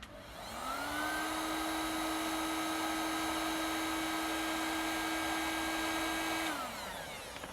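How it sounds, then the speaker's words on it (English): A heat gun blows hot air onto heat shrink tubing on robot arm controller wiring, a steady whining fan roar starting abruptly, holding constant for about six seconds, then spinning down. "I'm just going to grab the heat gun so I can put that heat shrink in place"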